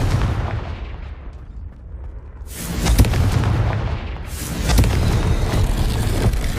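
Two heavy booming blasts from the Confringo explosive spell in Hogwarts Legacy, each a loud, full-bodied burst with a rumbling tail, spaced a couple of seconds apart.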